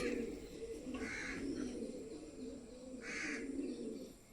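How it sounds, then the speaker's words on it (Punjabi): Pigeons cooing and calling near their coop as they are let out, two bursts of calls around a steady low murmur of birds, fairly close and moderate in level. "ਹੁਣ ਆਪਾਂ ਕਬੂਤਰ ਆਪਣੇ ਕੱਢਦੇ ਆ"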